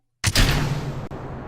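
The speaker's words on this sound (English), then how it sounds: "Just a nice light rocket, taking a gentle approach into space." Rocket engine ignites abruptly in Kerbal Space Program, a loud broadband roar that starts from silence and holds steady with a deep rumbling low end, briefly dipping once before continuing.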